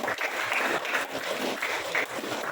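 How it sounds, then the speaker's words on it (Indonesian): Classroom applause for two students, Taka and Benjo, during a teaching practice session: a steady, fairly quiet patter of clapping lasting a couple of seconds, with no voices over it. "Kasih tepuk tangan untuk Taka dan Benjo"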